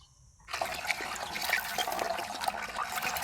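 Water splashes and runs steadily while peeled bamboo shoots are washed and scrubbed by hand, a close, continuous trickling and sloshing that starts abruptly after a brief silence.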